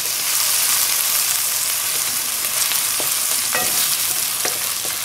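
Garlic and ginger sizzle steadily in hot oil with onions for a mash dal, with a spoon scraping and stirring through the pan in a few distinct clicks; no one speaks.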